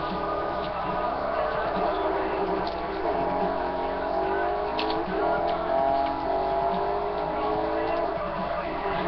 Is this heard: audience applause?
no